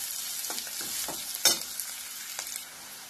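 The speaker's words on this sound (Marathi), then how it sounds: "कांदा चांगला भाजून घ्यायचा।" Onion sizzles steadily in a hot pan while making chavali usal, a cowpea curry, with a few sharper stirring scrapes and crackles over the continuous frying hiss; close and fairly loud, with no talking.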